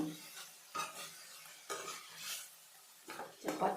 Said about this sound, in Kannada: ಮುಚ್ಚಳ ತೆಗೆದ್ಬಿಟ್ಟು ಈ ಥರ ಮಿಕ್ಸ್ ಮಾಡ್ತಾಯಿದ್ರೆ ಬೇಗ ನೀರೆಲ್ಲ ಹೀರ್ಕೊಳುತ್ತೆ